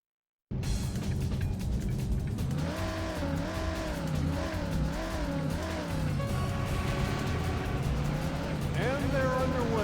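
Race car engines roaring in a racing video game at the start of a race, a thick sustained drone with rising and falling revs and tire squeal, loud and continuous after a brief silent opening.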